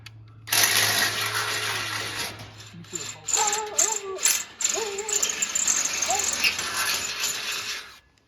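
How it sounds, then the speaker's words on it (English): Rapid ratcheting clicks in short bursts, a ratchet wrench tightening bolts on a van rack close by, with a mechanical hum and brief tonal squeaks between strokes. "just finished tightening all the bolts"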